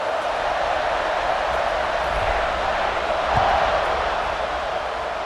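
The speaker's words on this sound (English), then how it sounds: "this crowd is buzzing after that last score." Steady stadium crowd buzz during an EA Sports College Football 26 game, a continuous broadband murmur of fans with a slight swell in the middle, no speech over it.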